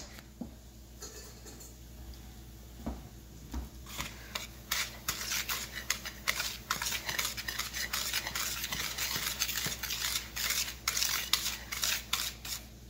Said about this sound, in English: Now we're gonna whisk all this together with my whisk.